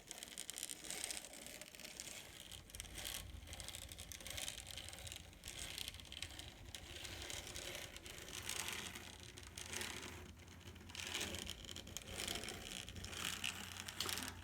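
A Bachmann N scale 2-8-2 Mikado model locomotive runs on Shapeways replacement gears that bind a little. It makes a faint, continuous mechanical whir with ratcheting gear chatter throughout, and no voices.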